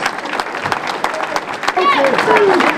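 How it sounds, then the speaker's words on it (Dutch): A crowd at a post-Tour de France cycling race in Boxmeer, 2016, claps in steady applause while a voice talks over it, with a few whistling tones near the end. "Geef een geweldig applaus voor Ian Cycling."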